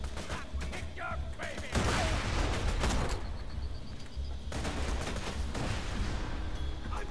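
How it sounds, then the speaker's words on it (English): Dense grenade blasts and rattling gunfire from the video game Borderlands 2, loud and continuous booms and shots overlapping throughout, with a little talk mixed in. "Stop throwing grenades, guys!"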